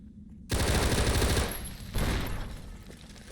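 Rapid automatic gunfire from a weapon in Fallout New Vegas bursts in loud and close after a quiet start, pauses briefly, then fires another shorter burst that trails off.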